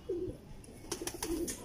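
A pigeon coos close by in soft, low throaty calls, a couple of short rolling coos in quick succession with quiet rustling between them.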